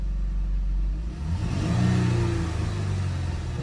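A 2012 Dodge Durango 3.6 engine fitted with a K&N air filter revs up from a low idle into a rising, throaty hum that holds steady, heard close with no talking.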